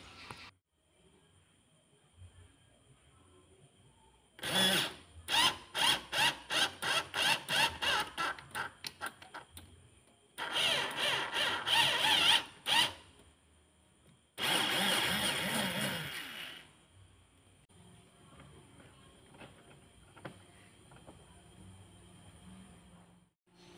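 A thread being tapped into a homemade aluminium grinder head, heard as several separate bursts of rhythmic, pulsing tool noise with quiet gaps between them, close by.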